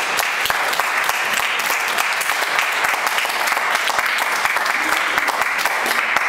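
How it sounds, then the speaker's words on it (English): An audience gives dense, steady applause after a jazz trio's performance, a continuous close patter of many hands clapping throughout. "One more wee round of applause."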